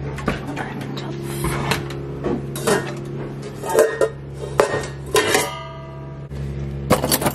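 A cooking pot being pulled out in a home kitchen, with a series of close metallic clanks, clinks and cupboard knocks spread irregularly over several seconds.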